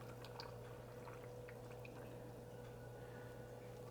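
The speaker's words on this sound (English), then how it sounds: "Go ahead and put my hot water in here." Hot water poured into canning jars for pressure-canning beets, a steady liquid pour with faint splashes and drips over a constant low hum, no talking.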